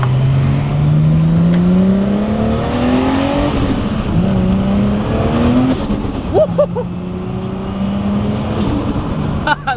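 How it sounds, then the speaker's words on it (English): A 600HP Nissan Skyline R34 GT-T accelerates under boost, engine note climbing through gears in rising sweeps with shifts between, loud and close from inside the car alongside road and wind noise. "you don't need to be at full throttle to experience and demonstrate the full power of this vehicle"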